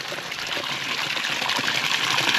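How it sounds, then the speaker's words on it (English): Waterfall in a Ugandan village near Nakabago, Mukono, a steady close rush of falling water with a continuous broadband hiss that holds level throughout, no voices. "Waterfalls."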